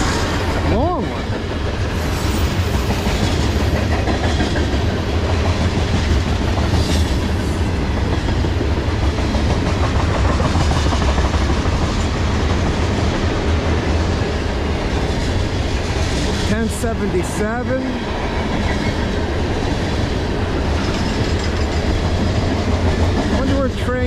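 A long freight train rolls past on the Lehigh Line with a continuous heavy rumble and steady clickety-clack of wheels over rail joints, loud and close, with a brief voice partway through.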